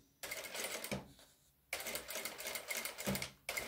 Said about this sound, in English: Now I'm going to close the seam on that back stitch.